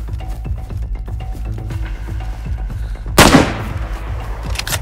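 In DayZ 1.02, a single loud close gunshot cracks out sharply with a decaying tail, after a stretch of busy game background noise.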